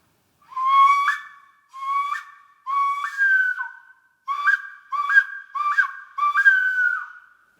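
A hue gourd bird caller imitates the weka's call in a series of clear whistled notes, each rising sharply, some paired or run together, loud and close with no other sound.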